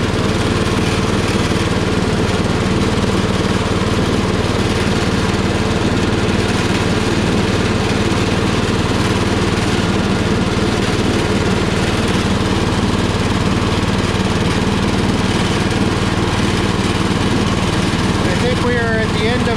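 Power King garden tractor mowing a lawn, a steady, loud engine drone with a constant mower whine that holds unbroken throughout.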